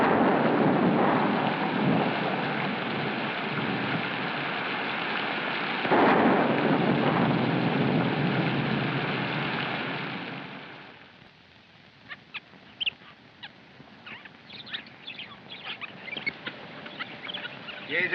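Heavy rain in a 1931 film, a dense steady hiss with a swelling rumble partway through that could be thunder. It then fades to near quiet broken by scattered light drips and taps.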